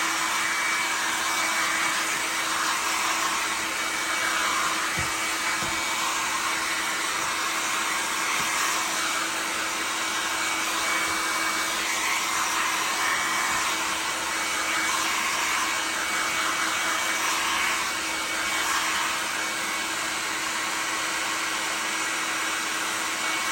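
A hair dryer blows steadily on a leather handbag during restoration, a constant loud whooshing hiss with a whining motor tone, running alone without a break.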